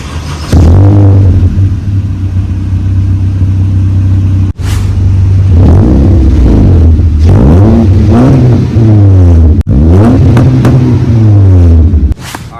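Car fitted with an Evil Energy aftermarket exhaust, loud and close, idling with a deep rumble, then roaring through a series of revs and gear changes as it pulls away, with short breaks in the sound.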